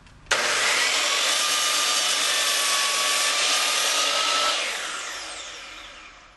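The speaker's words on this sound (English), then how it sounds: "So the saw is leaned over for a bevel cut, and then I'm going to make an angle cut at the same time." A miter saw tilted over for a bevel cut while also set to an angle cuts through stock with a loud, steady, high-pitched whine that starts abruptly, holds for about four seconds, then winds down as the blade spins down.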